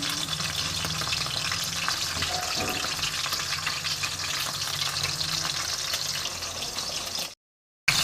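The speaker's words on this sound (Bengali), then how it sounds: "আস্তে আস্তে বন্ধুরা ভেজে নেব।" Fish fries slowly in mustard oil, a steady loud crackling sizzle with occasional pops, continuing evenly until a sudden brief dropout near the end.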